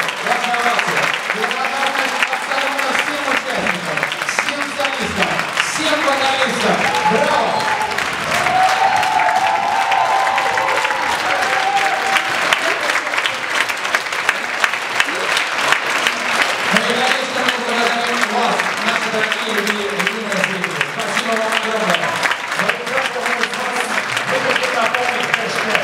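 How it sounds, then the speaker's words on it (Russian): Sustained audience applause for a brass orchestra after a concert of its new programme, a steady dense wash of clapping lasting nearly half a minute, with voices and faint musical tones audible underneath. "И давайте еще раз подарим аплодисменты тем людям, которые показали, продемонстрировали свою новую программу."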